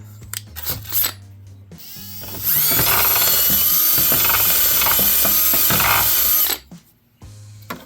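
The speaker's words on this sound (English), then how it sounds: "So I'm going to run a brush up inside this side, just right here." A power-driven wire brush scrubs inside the control arm bushing tube of a Polaris, a loud continuous whirring grind lasting several seconds before it stops, with quieter handling clicks before and after.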